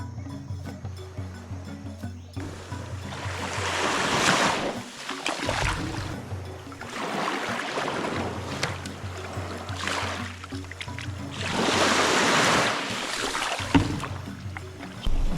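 Freshly caught squid are sloshed and rinsed in sea water on a desert island shore, repeated splashing and swishing bursts close by, separated by quieter lapping gaps.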